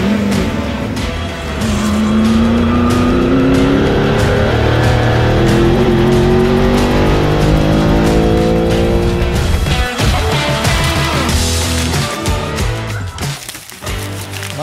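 Engine of a Mercedes-Benz 450 SLC race car, roughly 1100 hp, roaring loud and close with rising gear pulls and brief lifts, steady and dense almost throughout before easing off at the end.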